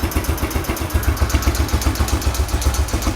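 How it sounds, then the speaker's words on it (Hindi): A Yamaha YBR motorcycle engine idles close by, its exhaust thumping in a steady, even rhythm of rapid pulses, loud and alone with no voices over it. "वही पल्सेशन, सेम रिदम की पल्सेशन आपको एग्जॉस्ट में मिलेगी"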